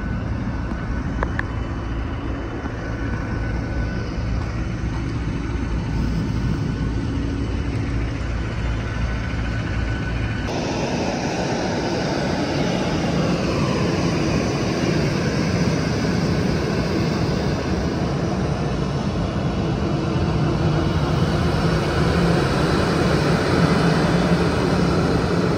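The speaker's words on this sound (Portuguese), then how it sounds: "então já estamos aqui no avião, né? O voo é da Ryanair" Cabin of a Ryanair airliner in flight, a loud steady engine and air roar that stays constant, with a slight shift in tone partway through and no speech.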